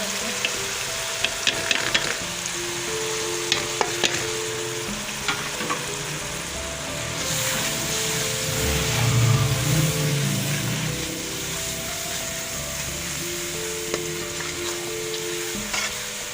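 Spices frying and sizzling in a pan for an aloo matar pulao, a steady hiss with occasional stirring scrapes and clinks, loud and close throughout.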